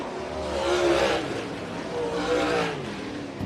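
Dirt late model race cars roar through the final turn and across the line side by side at Bloomington Speedway in a Northern Allstar series race, a loud continuous engine drone swelling twice with passing cars and crowd or announcer voices beneath.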